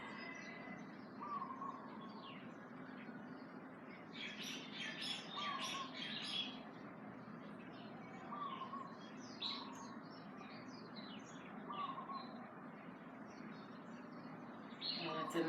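Several birds chirp and tweet in a natural outdoor setting near a pond, the calls repeated and overlapping at moderate distance over a steady soft background ambience.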